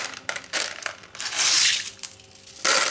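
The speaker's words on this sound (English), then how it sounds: "I'm just putting the leca in this" LECA clay pebbles pour into a yogurt pot for repotting an orchid, giving a loud, crunchy rattling cascade in several bursts with short pauses, alone without talk.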